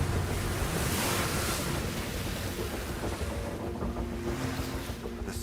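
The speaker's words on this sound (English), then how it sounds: "The relentless wind drives the seawater below." Wind-driven waves of the Southern Ocean churn in a broad, continuous roar, with gusting wind buffeting the microphone and surges swelling and easing over a few seconds.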